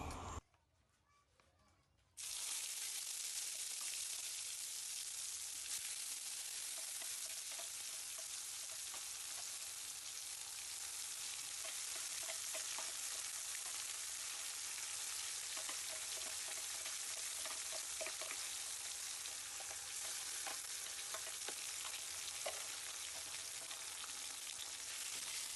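Onion, tomato and green chili paste fry in hot oil with bay leaf and dried chili while being stirred, a steady close sizzle that runs continuously after a brief quieter start, with faint scraping.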